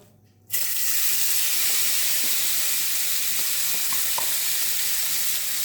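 Minced mutton keema drops into hot mustard oil and bursts into a loud, steady sizzle that fills the rest of the clip, with faint stirring clicks and no talk.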